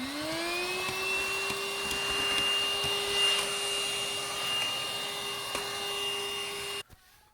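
Steady, loud whine of a vacuum cleaner running inside an opened PC case during an SSD upgrade, holding an even pitch for almost seven seconds before it cuts off abruptly.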